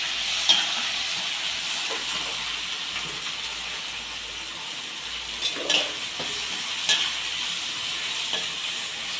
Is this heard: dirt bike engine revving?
no